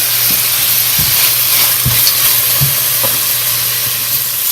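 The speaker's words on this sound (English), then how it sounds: "The sizzle sounds better." Steady hot-oil sizzle as bay leaves, black peppercorns and cloves fry, with crackling pops and a few scraping stirs, close and continuous with no voices.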